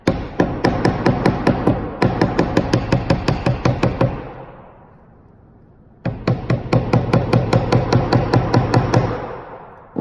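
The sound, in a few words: hammering wire for earring hoops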